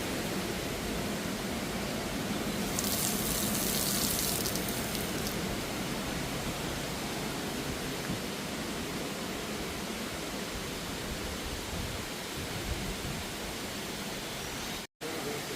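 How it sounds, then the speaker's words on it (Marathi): A waterfall near a temple in Rajapur during the monsoon rushes in a steady, loud, broadband roar that fills the whole stretch without letting up, with a faint higher hiss of spray near the start. "जसं मला आवाज जास्त वाढत चाललो पाण्याचं कारण ह्या साईडचा धबधबा बघू शकतास तुम्ही"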